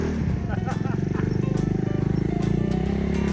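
A motorbike scrambles around a grassy field, its engine a steady close, throbbing drone with a fast pulsing rhythm. A voice talks over it.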